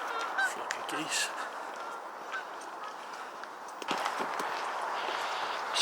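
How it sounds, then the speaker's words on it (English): A flock of geese honks repeatedly at mid-distance along an estuary trail in Devon, against steady outdoor wind and traffic-like hiss, with footsteps crunching faintly. "Flock of geese."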